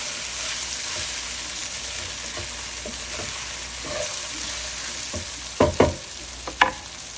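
Soaked sago pearls are stirred into a sizzling tempering of spices and asafoetida in a pan, giving a steady close frying hiss with a few sharp spoon scrapes and clacks near the end.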